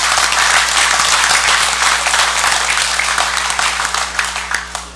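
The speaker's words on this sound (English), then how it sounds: "I would ask that we give him a round of applause" Legislators and guests at the opening of the Federated States of Micronesia Congress give a long round of applause, a thick, loud clapping wash over a low hum that slowly thins toward the end.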